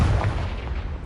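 Bombarda and Confringo explosive spells going off in Hogwarts Legacy, a loud, deep, rumbling blast that fills the whole brief moment, heavy low boom with crackling debris on top.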